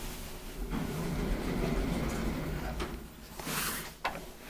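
Motor of a 2001 Otis Gen2 MRL traction elevator in an unhealthy condition, running as a steady low rumble and hum with a few clunks and sliding sounds near the end, heard up close without talk.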